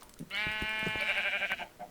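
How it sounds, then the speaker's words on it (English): A single sheep in the Minecraft video game gives one loud, wavering bleat lasting over a second, close and clear with no talk. "I hear more sheep, I did hear."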